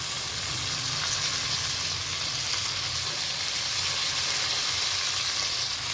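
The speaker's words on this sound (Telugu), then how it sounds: "అన్ని వెజిటబుల్స్ వేసేసుకుని ఫ్రై చేసుకోవాలి" Cauliflower, carrot and potato fry in a pan for mixed vegetable curry, giving a steady, close, even sizzle with a low bubbling hiss that runs unbroken throughout.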